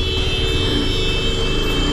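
A TVS Apache RR310 motorcycle accelerates along a road, a loud, steady engine drone with a rising, sustained tone throughout and no pauses, recorded close on the bike with no talk.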